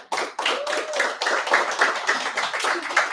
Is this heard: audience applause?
yes